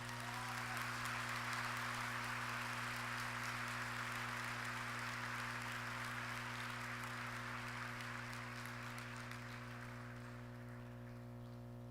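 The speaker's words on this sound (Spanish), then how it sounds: "Vamos a darle un fuerte aplauso a Jesús por su amor." Audience at a religious talk applauding, a sustained, even wash of clapping that is faint and distant over a steady low hum, fading slightly near the end.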